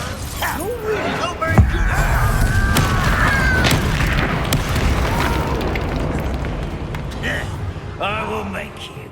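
A Confringo fire spell bursts into a loud explosion in the Hogwarts Legacy video game, a sharp boom followed by rumbling blast noise and game effects while a person talks over it.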